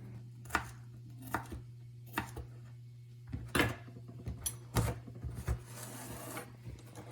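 A knife chops through a big red pepper on a board, giving sharp thuds spaced about a second apart, then a quicker cluster, over a steady background hum.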